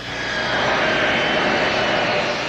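Aid planes arriving in Mexico roar steadily with a loud, broad aircraft engine drone that swells slightly and holds without pause.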